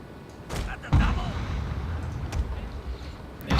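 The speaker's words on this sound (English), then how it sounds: "my artillery can reach them" Artillery fire in the video game Total War: Shogun 2 Fall of the Samurai, a few sharp booms spaced apart, one heavy thud near the start and another at the end, over a low battlefield rumble.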